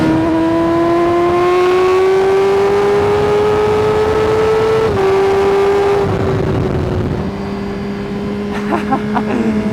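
Motorcycle engine fitted with a new aftermarket exhaust, revving loud and close in a sustained rising drone that climbs steadily, dips briefly, then settles lower as the throttle eases.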